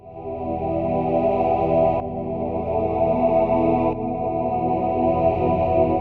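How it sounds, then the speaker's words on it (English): A choir-like synth pad preset called Synth Fade, built from wavetables through a formant filter for a vocal quality, holds a dense sustained chord with chorus shimmer, changing chords at two and four seconds, steady and loud throughout. "Synth Fade is a really cool choir sounding preset"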